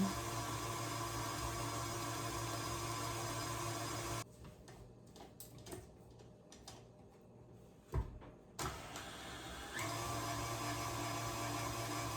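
An electric mixer beats pumpkin spice bread batter with vanilla in a home kitchen, running loud and steady, then pausing for a few seconds of quiet clatter before whirring again.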